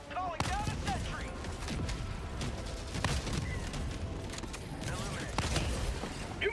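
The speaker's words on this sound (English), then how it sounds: "Calling down a sentry." An automated sentry turret in the Helldivers 2 video game fires in steady, rapid bursts amid battle noise. Voices are heard beneath the gunfire, and metallic creaks and squeals come through as well.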